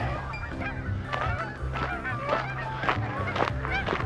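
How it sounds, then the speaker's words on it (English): Geese flock near a pond along a river valley trail and honk repeatedly in overlapping calls, fairly close and loud, over a steady low background rumble. "Got the geese flocking over there."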